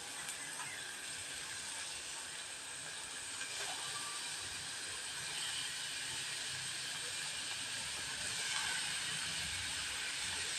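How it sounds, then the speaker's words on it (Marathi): Onion sizzles in hot oil in a kadai, a steady, dense hiss of frying that holds evenly throughout with no voices. "कांदा आपल्याला पहिला सर्वात प्रथम आहे ना फ्राय करून घ्यायचा चांगला"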